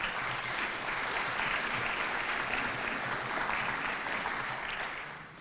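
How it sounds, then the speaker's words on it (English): A civic audience at the Johns Creek State of the City address claps steadily in a dense, even round of applause lasting several seconds before fading out. "I'd say for that, you deserve a round of applause."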